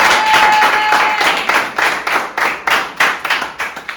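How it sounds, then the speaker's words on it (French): An audience at a student association event applauds guests, starting as a crowd of hands and settling into a steady rhythmic clap in unison, close and loud. "on applaudit s'il vous plaît"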